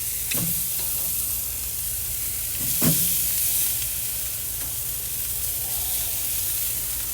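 Pork chops sizzle steadily on a hot grill, a continuous close frying hiss with a couple of brief louder crackles and no one talking.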